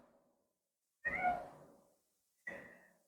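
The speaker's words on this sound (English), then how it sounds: "Cats." A cat meows twice, close and fairly loud in a quiet room, the first call longer and the second shorter after a brief pause.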